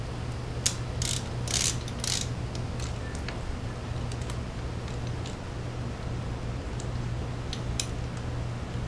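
Bolts are ratcheted in while braces are fitted on a Suzuki Boulevard C50 bobber, giving a burst of quick, bright clicking early on and then sparser ticks over a steady low hum.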